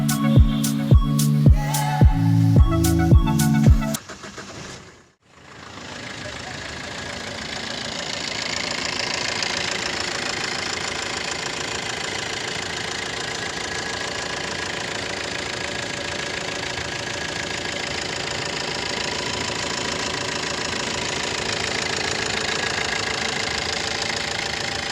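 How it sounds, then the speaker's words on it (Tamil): Maruti Swift Dzire ZDi diesel car: after a few seconds of music, the engine cranks and starts, then settles into a steady, slightly knocking diesel idle that runs on evenly with no talk. "வண்டியோட இன்ஜின் நாய்ஸ் காட்டுறோம் பாருங்கள்."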